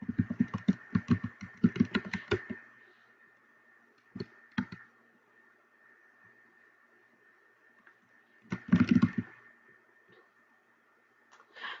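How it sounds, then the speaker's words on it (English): A computer keyboard clatters in quick bursts of typing, a cluster of rapid keystrokes at the start, a few isolated taps, then another short burst, fairly close in a quiet room. "we can just type our terms in and hit search"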